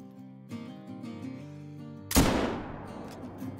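One sharp rifle shot fired at a deer in the hunting game Call of the Wild, a sudden loud crack that decays slowly over soft ambient game sounds.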